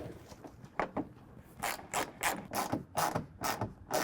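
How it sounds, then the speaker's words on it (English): A 10mm socket ratchet tightens wheel well guard bolts on the rear of a 2015-2020 Ford F-150, giving close, quiet bursts of rapid clicking in several short strokes with brief pauses between them. "we can go ahead and take our 10mm socket and tighten everything down"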